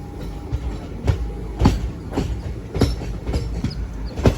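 A passenger train rolling and slowing near Gauribidanur in Karnataka, with rhythmic clickety-clack of wheels over rail joints under a constant rumble, recorded from inside the carriage with no talk.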